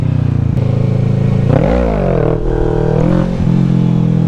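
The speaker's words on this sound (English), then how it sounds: "Now I'm getting the bike up, not that high though." A stunt motorcycle revs hard, its engine swelling into a rising and falling roar as the front wheel lifts for a wheelie, loud and near with a steady growl beneath.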